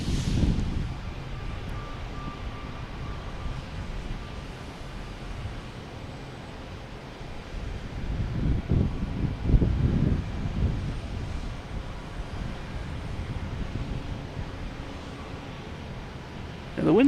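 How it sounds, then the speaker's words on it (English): Steady wind buffets the microphone at the Boston Logan Airport plane-spotting spot, a broad low rumble throughout with stronger gusts around the middle and a sharp burst at the end. "And the wind is a little bit stronger here."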